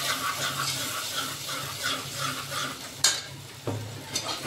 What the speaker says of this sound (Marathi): ही खूप हलवून घ्यायची व्यवस्थित, तेल सुटेपर्यंत अगदी।